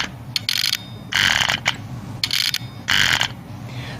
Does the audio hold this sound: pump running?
yes